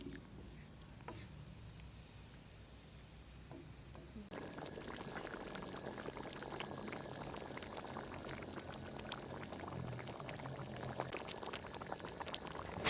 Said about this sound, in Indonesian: Nah, setelah sudah tercampur, kemudian kita masukkan air.